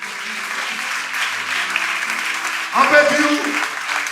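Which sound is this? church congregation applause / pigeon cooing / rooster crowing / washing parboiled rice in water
church congregation applause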